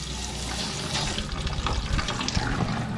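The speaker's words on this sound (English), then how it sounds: "Now we have water in the shed." Water gushes in a steady, loud stream from a newly plumbed tap in a shed fed by PEX piping, splashing close by with no talk.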